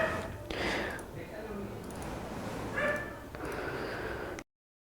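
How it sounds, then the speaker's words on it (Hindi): Several dogs bark and yip in a noisy, overlapping cluster, with whimpers between the barks against a rough background. "यार ये लोग इतना ना भौंक रहा है, मेरा दिमाग कंफ्यूज हो गया है।"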